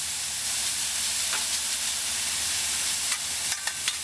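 Al pastor pork spread flat on a grill sizzles steadily at close range, a continuous hiss with a few sharper crackles and pops near the end.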